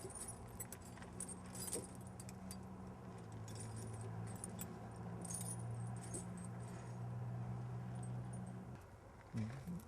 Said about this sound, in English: adjusting the chain on the tire so that there's less adjustments once you roll forward